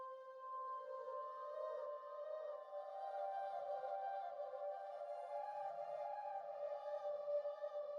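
Half-time, stretched vocal chops drenched in reverb and delay, forming a sustained, layered tonal pad that drifts steadily for the whole stretch with no talking over it.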